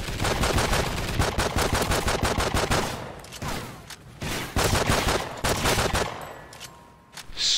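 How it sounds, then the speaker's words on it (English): Rapid pistol gunshots in Call of Duty Ghosts ring out in quick, loud repeated bursts, several volleys separated by short pauses, with no talking over them. "It's quite accurate, this pistol."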